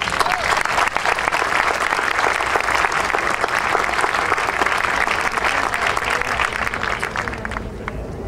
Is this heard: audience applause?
yes